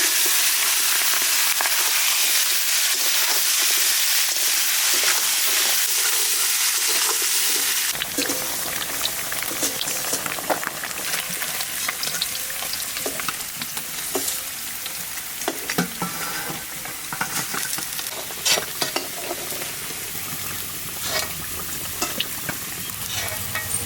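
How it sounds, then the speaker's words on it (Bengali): Catla fish pieces frying in hot oil with dried red chillies, whole garam masala and cumin, a steady dense sizzle that jumps louder after a quiet start and carries on with crackles and spatters throughout. "এবার তেলের মধ্যে দিয়ে হালকা করে মাছটা একটু ভেজে নেবো।"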